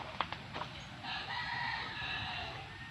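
Backyard chickens on a small farm cluck in a few short sharp bursts, then a rooster crows in a sustained, fairly faint call, with no talk.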